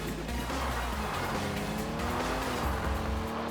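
Rally car in the Old School Rally video game, engine revving steadily with rising pitch as the tires squeal through fast, sharp turns, close and continuous.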